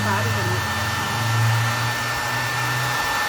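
Handheld hair dryer drying thin paint on an MDF board, a steady loud whirring blower hum with a constant high whine, running continuously close to the microphone with no talk.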